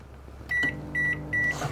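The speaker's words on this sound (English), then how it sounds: "microwave is on mains power" A microwave oven running on mains power gives off a steady low hum, with three short bright beeps coming close together over it and no talking.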